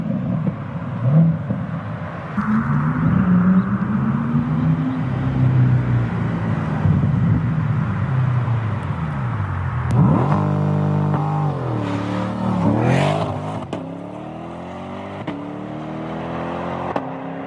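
A Corvette C8 with an aftermarket exhaust makes loud flyby passes, its engine note sweeping up through revs, then dropping away as the car approaches and passes.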